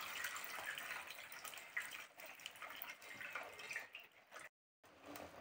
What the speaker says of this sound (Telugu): సో ఇలా నీట్గా ఒక ఫిల్టర్లో అంతా ఫిల్టర్ చేసేసుకోవాలండి